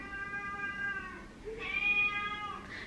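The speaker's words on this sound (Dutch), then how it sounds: "Dan beginnen al mijn katten." Cats meow indoors, with two drawn-out tonal cries in quick succession, the second rising and more strained, heard fairly faintly against a low room hum.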